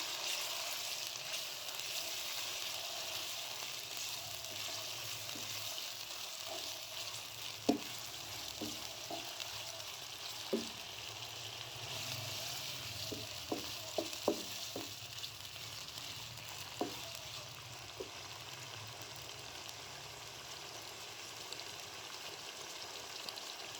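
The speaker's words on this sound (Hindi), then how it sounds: "और इसमें ऐड कर दूंगी चिकन। इसको करूँगी अच्छे से मिक्स।" Chicken sizzling in a pan of fried rice after garlic-ginger paste is added, a soft steady frying hiss broken by scattered clinks and scrapes of stirring, fairly quiet with no talking.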